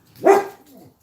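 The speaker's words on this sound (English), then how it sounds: "Are you barking at the rain?" A single dog bark at the rain, close and fairly loud, followed by a softer trailing whine; no one speaks.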